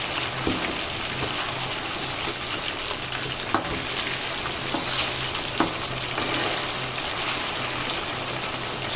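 Chicken 65 deep-frying in hot oil, a dense continuous crackling sizzle like heavy rain, steady and close with a few faint utensil taps and no voices.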